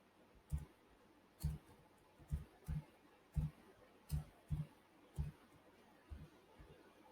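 A computer mouse clicks close by in a rough series of about a dozen short, distinct taps with uneven gaps, over a faint quiet room background.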